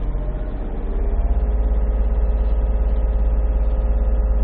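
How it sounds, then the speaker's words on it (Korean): A used mini excavator with an enclosed cab, its diesel engine held at maximum RPM, drones in a steady, loud, low-pitched roar that rises slightly in the first second and then stays constant and close. "최고 RPM의 엔진 소리입니다."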